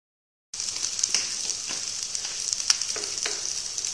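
Noodles fry in a pan for lemon noodles, a steady bright sizzle starting abruptly after a brief silence, with a few soft scraping stirs through it.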